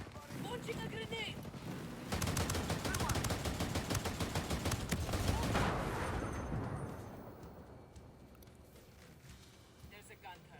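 Heavy automatic gunfire and bursts of shooting from the video game Ghost Recon Breakpoint, loud and dense for several seconds in the middle before fading to a quieter scene, with a voice speaking in places.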